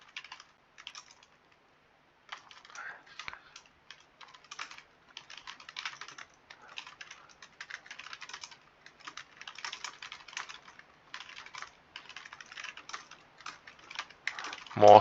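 Computer keyboard typing, quiet and close, in steady clusters of rapid clicks with brief gaps throughout.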